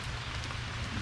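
Steady rain falls during a storm outdoors where turtles and tortoises are kept, a continuous dense hiss of drops on surfaces with no talk.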